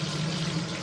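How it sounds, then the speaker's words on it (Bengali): Fish frying in hot oil in a wok, a steady dense sizzle with a low hum beneath it, held evenly for under a second. "এই যে কড়াই তেল পড়ে গেছে আর তেলে মাছ পড়ে গেছে"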